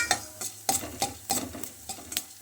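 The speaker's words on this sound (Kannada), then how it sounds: "ಒಂದು ಅರ್ಧ ಸ್ಪೂನು ಜೀರಿಗೆ, ಸ್ವಲ್ಪ ಫ್ರೈ ಆಗಬೇಕು." Cumin seeds fry in hot oil in a pan while a spoon stirs them, giving a soft sizzle broken by sharp, regular scraping strokes against the metal, roughly three per second, close and clear.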